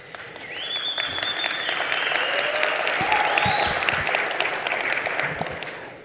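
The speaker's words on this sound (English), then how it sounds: "You must clap." Audience applause swelling from a few claps into full, steady clapping across the room, then tapering off at the end, with some cheers mixed in.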